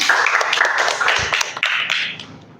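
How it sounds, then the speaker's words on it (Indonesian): A small group claps hands in a short, uneven burst, close and fairly loud, with a few sharper individual claps before it fades out. "Tepuk tangan dulu, geng."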